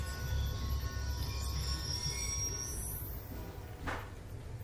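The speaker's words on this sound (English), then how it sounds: "Ain't getting anything else with that train in the way." A train passing in the Black Ops 2 video game, with a low rumbling roll and high metallic wheel squeal that slides upward, then a brief whoosh near the end, moderately quiet.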